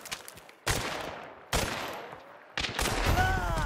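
Three gunshots ring out in Hunt: Showdown, spaced about a second apart, each a sharp loud crack trailing into a long echoing decay, the last followed by a lingering rumble.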